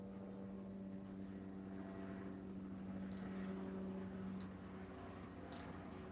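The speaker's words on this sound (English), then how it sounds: "oh, a fireman helicopter." A firefighting helicopter flies overhead through smoke. Its steady, droning rotor hum holds at a constant level throughout and sounds moderately distant.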